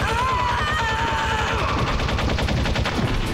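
Rapid bursts of gunfire from the video game Metal Gear Solid, loud repeated shots in a steady stream under music, with no talking.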